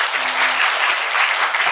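Audience applause at a community book concert, a full, dense burst of clapping from a crowd, loud and continuous for the whole short stretch.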